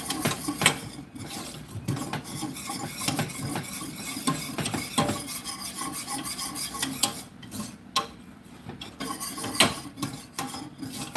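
A melted mixture for salted nut rolls stirred in a pot, with continuous rasping scrapes of a spoon against the pot's sides and base at an uneven rhythm, close and steady, with no voices.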